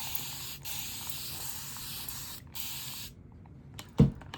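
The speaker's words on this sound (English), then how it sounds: "gonna spray my palette" A spray bottle mists a paint palette in a short run of hissing spray bursts, a steady mist broken by brief pauses, then it stops and a single soft knock follows.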